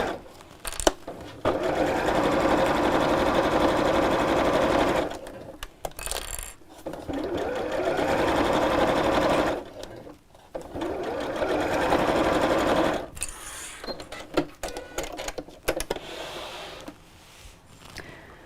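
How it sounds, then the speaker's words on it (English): A domestic sewing machine runs a long stitch across the top of a crossbody bag with a letterbox zip, close and loud, in three sustained runs broken by short pauses and small clicks. "And we'll sew straight across the top here, just within the seam allowance, just to hold that in place."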